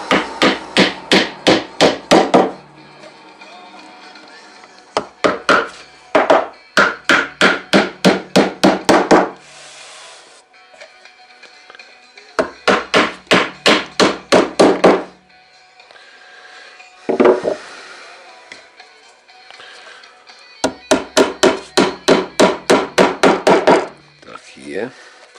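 A hammer drives nails into the wooden body of a beehive at a Carpathian apiary workshop, in loud, rapid bursts of about ten close blows each, separated by short quiet gaps.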